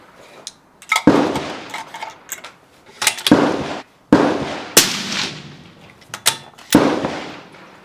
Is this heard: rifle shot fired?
yes